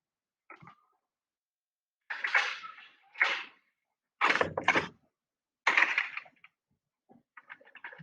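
Several separate door-closing sound effects in a row, each a short broadband thump or swing, with brief gaps of silence between them and no talking.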